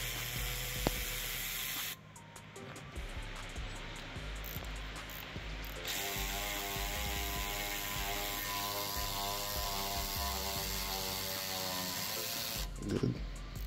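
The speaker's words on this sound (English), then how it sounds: "I'm gonna use my Milwaukee here to speed up the process." A Milwaukee power tool, likely an impact wrench, rattles loudly and steadily as it loosens front brake caliper bolts on a 2014-2019 Chevy/GMC HD truck, running in long continuous bursts with brief pauses.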